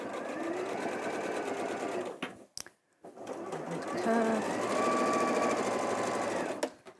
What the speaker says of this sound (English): Oh, it's a lot easier to sew in straight lines.